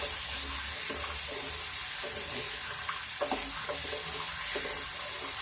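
Sprouts and soaked almonds roasting in a pan, with a steady soft sizzle and scattered stirring scrapes and clicks throughout, no talking.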